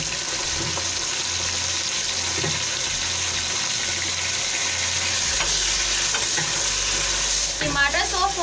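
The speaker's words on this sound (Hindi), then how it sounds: "टमाटर सॉफ्ट होने तक भूनेंगे।" Tomatoes frying with ginger and garlic in a pan for matar pulao, a steady close sizzle with occasional stirring scrapes and a few clinks toward the end, no voice over it.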